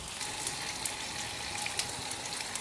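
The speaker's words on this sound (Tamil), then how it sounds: "கடுகெல்லாம் வெடிச்சிருச்சு" Mustard seeds crackle and pop in hot oil while tempering for a Tamil kovakkai (ivy gourd) gravy, giving a steady dense sizzle with scattered sharp pops throughout, close and fairly quiet, with no talking.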